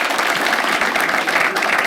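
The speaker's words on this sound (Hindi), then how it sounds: "एक बार अच्छे से ताली बजा दो यार" Sustained applause from a stand-up comedy audience, steady and loud throughout with dense clapping and no talk over it.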